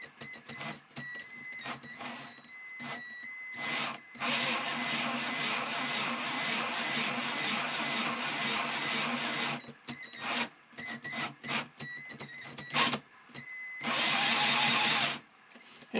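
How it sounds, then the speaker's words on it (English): A two-stroke sleeve valve drive mechanism on a Crecy-type Briggs engine runs in bursts, a dense mechanical whirring and clattering that starts and stops repeatedly, with a long sustained run in the middle and another near the end. "Just more of the same type of sleeve valve action there on the two-stroke."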